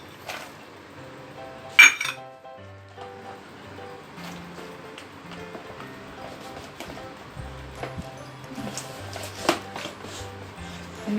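Banana walnut cake batter is stirred in a bowl, a spoon clinking and scraping against the sides in uneven taps and knocks, soft and close, with occasional sharper clanks and music playing underneath.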